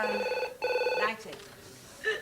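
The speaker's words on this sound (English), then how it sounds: "That seems to be the phone." A telephone bell rings in a house, two clear ringing bursts close by, the second cut short, followed by a brief start of another ring.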